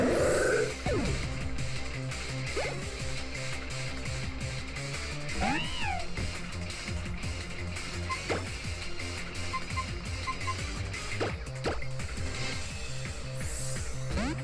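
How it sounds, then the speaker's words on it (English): A cat Pokémon meows in Pokemon Y, with a few short, synthetic mewing calls over busy, looping game music and battle sound effects. "Oh, look at the little kitty cat."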